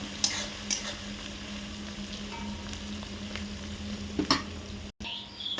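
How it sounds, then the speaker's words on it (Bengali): Onion and garlic paste fry in a pan with a steady low sizzle that runs throughout. A few sharper clicks of stirring break in, and there is a brief dropout near the end. "পেঁয়াজটা ভালো করে ভেজে নেওয়া হচ্ছে।"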